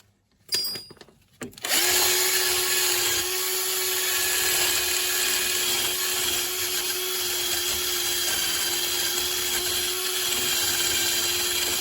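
A power drill cleaning threads on a 2013 Fiat Panda during a front drop link replacement whirs at a steady high pitch, running continuously at close range after a brief start-up.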